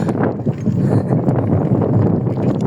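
Strong gusts of wind buffet the microphone in a continuous low roar, loud and close throughout, in Shoaiba.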